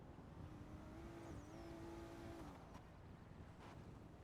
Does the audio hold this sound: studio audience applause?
no